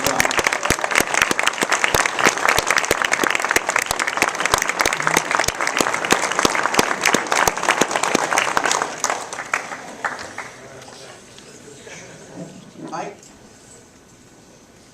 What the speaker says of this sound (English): go ahead and stand up so everybody can applaud